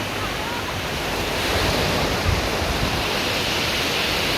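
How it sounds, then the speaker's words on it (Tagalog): Ocean surf at Bagasbas beach in Bicol, a steady broadband roar of breaking waves with wind noise on the microphone, loud and continuous, swelling slightly midway with no voices. "Sarap yung alon guys"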